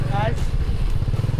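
A motorbike engine hums along a Vietnamese countryside road near the Demilitarised Zone, a steady low drone close by, with voices talking over it.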